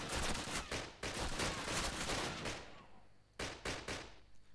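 Enemy gunfire in the Call of Duty shooter, rapid bursts of loud close automatic shots in quick clusters with brief gaps between them.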